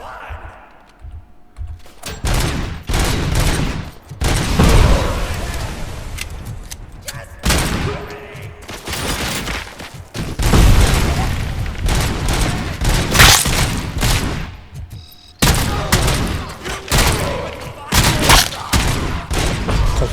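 Gunfire from a RoboCop: Rogue City video game, with repeated loud bursts and sustained volleys of shots filling most of the stretch and brief lulls between them.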